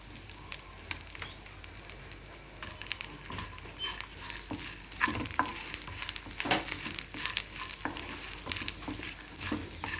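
Spices frying in a pan sizzle and crackle steadily, with scattered pops and occasional stirring scrapes; close and fairly quiet, with no talking.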